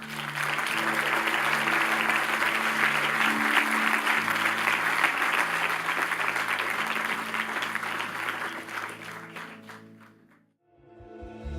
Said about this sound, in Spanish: Puede darle un aplauso a Jesús.